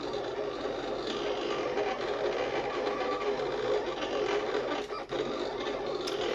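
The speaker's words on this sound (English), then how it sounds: "Now that's the one thing about this machine, it's really loud." A Silhouette Cameo 4 cutting machine runs loudly and steadily nearby, making a dense whirring, rattling drone that keeps going throughout with only a short dip near the end.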